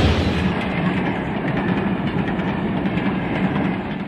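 A train rolls through the Selous Game Reserve in Tanzania, a loud steady rumble of wheels and carriages with rhythmic clatter heard from on board.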